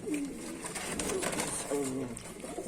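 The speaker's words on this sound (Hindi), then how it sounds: "अदा भाई जो है कबूतरों की सेवा कर रहे हैं मेरे ख्याल में" Soft coos from pigeons being fed at night in a village repeat a few times at moderate distance, with faint voices and background noise around them.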